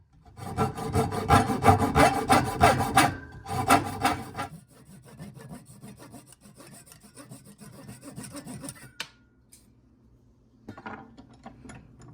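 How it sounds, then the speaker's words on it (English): A small wooden popper fishing lure is sanded by hand, giving rough, rhythmic rubbing strokes that are loud and close for the first few seconds, then quieter scratchy passes with short pauses and a sharp tap near the end. "I can sand the rest."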